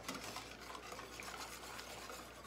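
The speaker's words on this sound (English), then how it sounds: "Can you see I'm stirring there?" A spoon stirs chocolate meringue pie filling in a pot, giving a faint, steady scraping swish that runs on without pause, with no voices.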